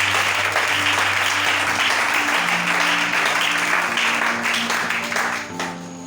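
A church congregation at a seminar applauds steadily in praise of the Lord, sustained loud clapping filling a large room with a low hum and faint voices underneath, fading slightly at the end.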